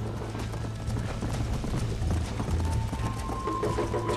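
A horse gallops in the Red Dead Redemption video game, with steady rapid clip-clop hoofbeats close and loud under a continuous layer of game ambience and music.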